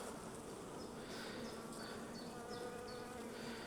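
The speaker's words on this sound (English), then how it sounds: "these bees are quite tetchy and I don't want to upset them too much" Honey bees buzz steadily around an opened hive box during a hive inspection, with individual bees whining past close by over a continuous dense hum and no talking.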